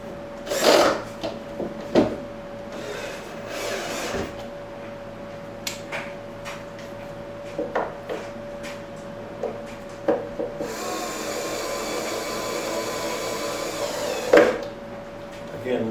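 A power driver turns a screw into a T-nut while a studio set is assembled, with a low-speed whirring run, short bursts and clicks, and wood rubbing and knocking nearby, fairly close.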